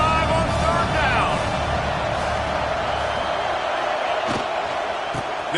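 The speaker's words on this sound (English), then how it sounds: "The Buckeye crowd alive on third down." Ohio State Buckeyes football stadium crowd roaring on third down against Auburn, a dense sustained wall of cheering and noise under a commentator's talk.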